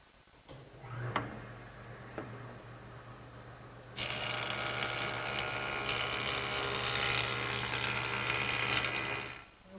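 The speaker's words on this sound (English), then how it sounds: "I'm going to run one edge through the joiner to make sure that it's perfectly straight and" A jointer straightens the edge of a wooden drop-leaf table leaf: a steady low motor hum runs throughout, then about four seconds in a loud, broad rushing cut begins as the board feeds across the cutterhead and continues nearly to the end.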